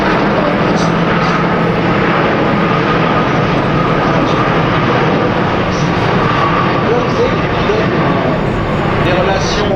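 An Airbus A380 airliner makes a low-speed pass at about 120 knots at an air show, a loud, steady roar of jet engines filling the whole stretch without a break.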